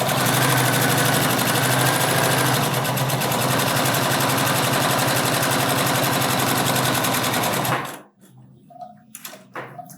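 Sewing machine running a gathering stitch with an 8 mm seam allowance: a loud, close, continuous motor whir with rapid needle chatter for about eight seconds, then it stops, leaving faint handling clicks.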